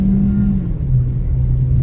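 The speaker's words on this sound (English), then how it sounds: "The RPM slowly build up, and then the car engages the other gear, and then it takes off." Proton car engine with 96 horsepower, rumbling steadily up close as revs build slowly, with a low engine drone that shifts pitch midway, like changing gear while pulling away sluggishly.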